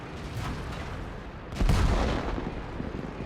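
A tank cannon shot from an AMX 30 1er Prototype in World of Tanks strikes a T54 lightweight, a single heavy booming report about midway through over a constant rumbling battlefield engine noise, fairly loud and close.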